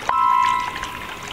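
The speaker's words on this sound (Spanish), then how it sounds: "se dieron cuenta que el chorro de agua estaba llenándola" A thin stream of water pours into a stone basin, a short close splashing pour with a bright ringing tone that fades into a soft trickle.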